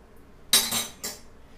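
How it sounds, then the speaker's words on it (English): Metal clinks against a pot on the stove as InstaMorph moldable plastic is lifted out: two sharp, close clinks about half a second apart, with no talking. "Taking some of the Instamorph out of the stove now"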